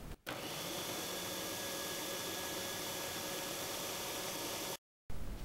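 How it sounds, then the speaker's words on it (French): A food processor blends a vegetable stuffing for courgettes with soaked bread, running as a steady loud whir for several seconds before it cuts off abruptly and briefly restarts. "À présent, on vient mixer."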